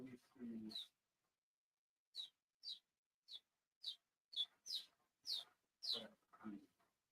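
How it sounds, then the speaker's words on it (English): Repeated high, short cheeps from young birds, spaced about every half second, fairly faint, with a voice briefly at the start and end. "I don't know if y'all can hear the baby chicks in the background"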